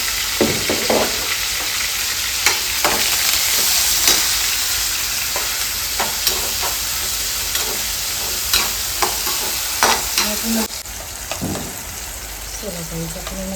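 Green chili and tomato sizzle in hot oil in a pan, loud steady frying with repeated scraping clicks of a spoon stirring, close up and with no talking.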